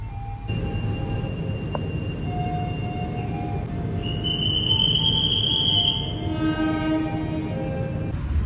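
The Gumarang passenger train pulls out of Karawang station at night behind a red locomotive, its steady rolling rumble under sustained horn tones, with a brief high wheel squeal midway and a second horn note toward the end.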